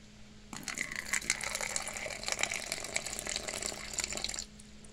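Water pours steadily into a tarantula's enclosure, a gushing, splashing stream that runs for about four seconds without a break before it stops, close by and with no talk.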